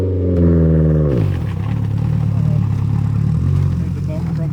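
A Subaru's engine revs hard while the car works free from deep snow on a mountain road, a loud sustained pitch that drops sharply after a second, then settles into a steady rumbling idle with talk over it.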